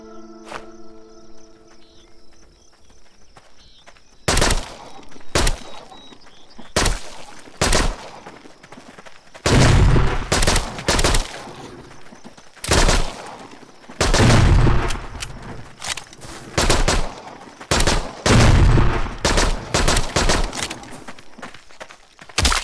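Gunfire from a gun in the VR game Arizona Sunshine: a quiet stretch with faint ambience, then a series of loud, sharp shots fired irregularly, some in quick pairs, over about eighteen seconds.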